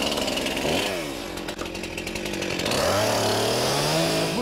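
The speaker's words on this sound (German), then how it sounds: "Erst nachdem alle Äste verladen sind, können sie die Kettensäge wieder anschmeißen." A chainsaw runs loud and close, its engine revving up and down as it cuts through tree branches, with a steady high buzz throughout.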